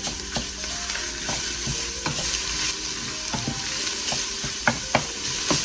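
Onions frying in a soup pot over high heat give a continuous close sizzle, broken by scattered sharp clicks and scrapes of stirring, with no talking.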